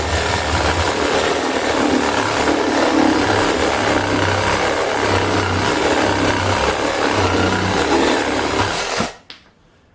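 A small cordless reciprocating saw fitted with the proper blade cuts steadily, a loud buzzing rasp with a rapid back-and-forth rhythm that runs for about nine seconds before stopping abruptly.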